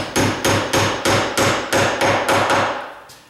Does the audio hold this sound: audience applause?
no